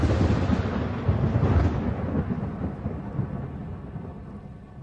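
Thunder from a lightning storm, a deep rolling rumble that starts loud and gradually fades away over several seconds.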